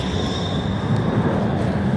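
A train rumbles steadily at a station, a continuous low roar with a faint high whine above it, close and even throughout.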